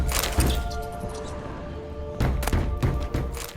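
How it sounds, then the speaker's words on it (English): Heavy banging thuds in the basement of a haunted tower in Witcher 3, a few dull knocks early on, then a cluster of loud, close impacts in the second half over a low rumbling ambience. "There's this banging sound down in the basement."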